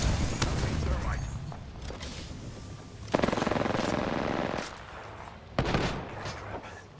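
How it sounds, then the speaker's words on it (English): Bursts of gunfire and explosive blasts fill a squad-based video game shooter firefight, with loud clustered volleys around three and five and a half seconds over a dense background of combat noise. "Opening fire on the enemy."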